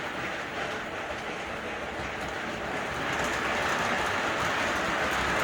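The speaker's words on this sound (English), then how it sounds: "And there goes the train." O gauge model train running on a home layout: a continuous close rolling clatter of wheels on track, slowly growing louder, with no speech.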